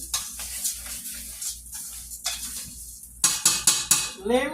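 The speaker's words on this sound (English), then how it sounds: "So what I'm gonna do is go in here, mix this rice up." A utensil stirring chicken and rice in a pot, first soft scraping and shuffling, then a quick series of sharp metallic clinks against the pot near the end.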